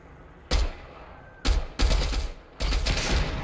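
A gun is tap-fired in Fortnite: four loud, close bursts of shots at uneven intervals, each a short sharp volley, with quiet between.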